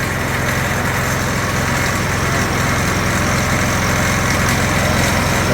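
A go kart engine idles steadily with a quieter, muffled exhaust, a constant low rumble close by with no pauses and no talk over it.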